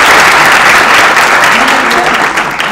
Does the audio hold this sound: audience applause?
yes